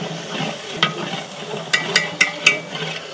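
Ginger and garlic paste, half a kilo of ginger and 300 g of ground garlic for a village-style mutton curry, frying and being stirred in a large pot, with a steady soft sizzle and a few sharp scraping clinks of the spoon.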